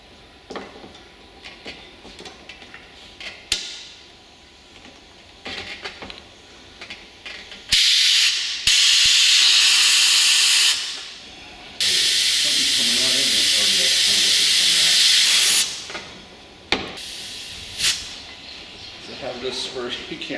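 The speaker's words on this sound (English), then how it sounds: "I'm gonna hit it with the blow gun and the air compressor." An air compressor blow gun, turned up about as high as it goes, blasts out a clogged sunroof drain on a Toyota Camry. Several loud, close bursts of rushing air, two of them long and sustained, stand out over quieter handling noises.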